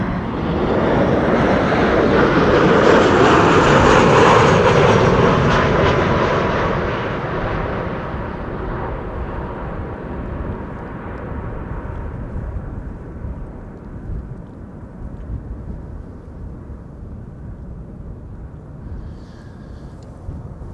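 Airliner landing at Amsterdam Schiphol Airport, a loud roaring jet engine rumble passing close overhead and swelling to a peak before fading into a steady distant whine and wind noise.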